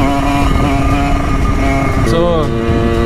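A Simson moped engine revs hard for a wheelie, a loud close buzzing two-stroke note that rises in pitch near the end, with a voice talking over it.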